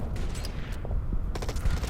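A unit opening fire in the Order of Battle strategy game, Winter War setting: a couple of short muffled reports and a distant rumbling burst within two seconds, fairly faint under low, noisy ambience.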